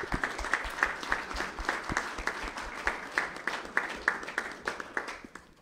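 A small group claps steadily, sharp individual hand claps repeating at a moderate rhythm before fading slightly at the end.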